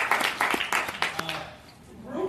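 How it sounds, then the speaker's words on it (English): A few people clapping in short separate bursts at a map convention, fairly close, fading out partway through with some voices. "We gotta clap now."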